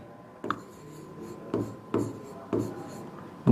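Chalk or marker writing on a board during an economics lesson on national income, with several separate short scratchy strokes spaced about a second apart over a steady low room hum.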